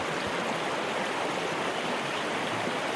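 Water of the East Fork San Gabriel River near Cattle Canyon Bridge rushes steadily through a gold sluice box set at a gentle angle, a dense unbroken roar, loud and close throughout.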